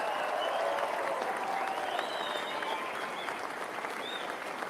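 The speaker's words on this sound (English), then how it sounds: "Give them a round of applause." Audience applause at a political rally fills the room in a sustained, moderately distant wash of clapping with some crowd noise, holding steady throughout.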